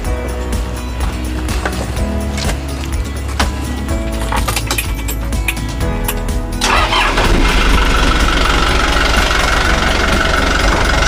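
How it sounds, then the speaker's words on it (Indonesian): The engine of a mobile emergency water-treatment truck cranks and catches, then settles into a loud, steady idle with a rough, knocking rumble heard close by. "Setelah mesin mobil IPA menyala, kita menunggu 3 menit untuk menetralisasikan mesin berfungsi sebagaimana mestinya."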